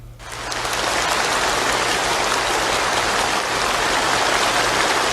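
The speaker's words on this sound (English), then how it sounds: "Start cheering now." A large audience cheers and applauds in a dense, steady roar that swells in within the first second and holds loud and even to the end, with no voices standing out.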